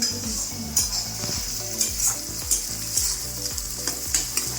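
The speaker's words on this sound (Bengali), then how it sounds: "পেঁয়াজ ভাজা হচ্ছে" Onions frying in a pan of oil in a home kitchen while mutton is being cooked, a steady loud sizzle with bursts of stirring and utensil clatter at an even rhythm, no voices.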